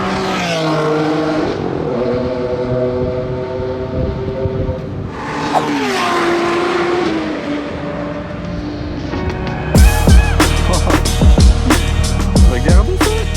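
Race cars including McLaren Senna hypercars at Circuit Paul Ricard, engines droning and shifting pitch as they run flat out, with a loud, close, roaring surge near the end drowning out the distant motors before it.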